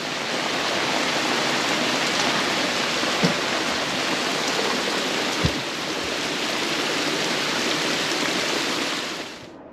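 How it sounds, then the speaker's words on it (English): Dense, steady roar of heavy rain from a squall pouring down on a sailboat in French Polynesia without a break, loud and close, fading slightly at the very end. "Another big squall just came in."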